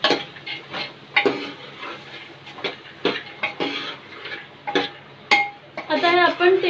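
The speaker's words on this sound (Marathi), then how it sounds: "त्याच्यामध्ये आता आपण हे काळे वाटाणे ॲड करूयात। मिक्स करून घेऊयात।" Black peas being stirred in a pan with a spoon, producing irregular scraping and clinking strokes and a light sizzle, fairly close and moderately loud.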